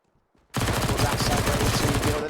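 Dense, rapid SMG gunfire in CS:GO on the Nuke map, a sustained close burst of sharp rattling shots that starts abruptly after a brief quiet moment and runs loud to the end.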